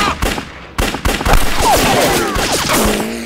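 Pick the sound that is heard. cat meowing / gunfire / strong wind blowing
gunfire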